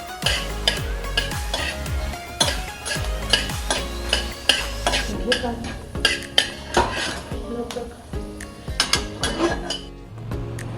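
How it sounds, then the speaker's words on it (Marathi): Fenugreek seeds fry in a little oil for a mirchi lonche pickle, while a spoon clinks and scrapes against the pan in quick, irregular strokes over a faint sizzle. "मेथी अशा आपण तेलामध्ये थोडं तळून घेणार."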